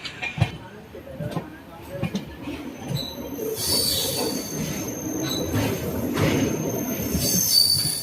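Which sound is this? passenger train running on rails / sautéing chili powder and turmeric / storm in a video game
passenger train running on rails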